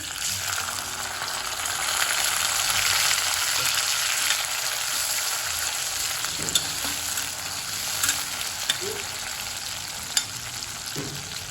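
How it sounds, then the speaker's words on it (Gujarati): Chopped tomatoes fry in hot oil with cumin and curry leaves for a bottle gourd pav bhaji, giving a loud, steady close-up sizzle with a few soft clinks and stirring knocks. "અને હવે આપણે ટામેટાને સોફ્ટ થાય ત્યાં સુધી કૂક કરીશું"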